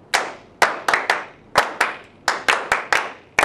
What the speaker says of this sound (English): So first one will be in your lap, and then clap.